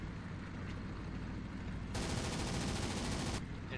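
Rapid machine gun fire from aircraft guns in the IL-2 1946 flight game, heard as a steady crackling burst that grows louder and denser midway, then drops back to a rumbling background of engine drone and distant shots.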